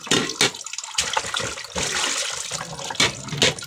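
Water trickles and splashes steadily from a dipper while someone washes, with a few louder splashes and pours rising over the running water, close and fairly loud.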